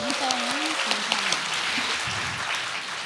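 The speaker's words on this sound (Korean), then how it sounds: "박수 한번 보내주세요." Applause from the audience at a Korean lifelong-education alliance launch ceremony, a broad steady wash of clapping lasting about three seconds, with a voice speaking over the start.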